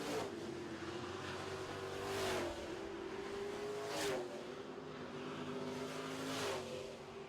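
Super trucks race in a heat at a track, a steady, fairly distant engine roar that swells and eases slightly as the pack circles, with no voices.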